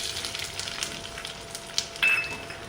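Chopped onion sizzles and fries in a hot pan while lentil amti is being cooked, a steady close crackle with a sharper burst of hiss near the end.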